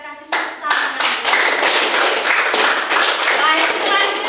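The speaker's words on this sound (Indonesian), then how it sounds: "Kita kasih tepuk tangan." Students in a classroom give a burst of applause, with many hands clapping close and loud in a dense, steady patter after a short spoken word from the teacher.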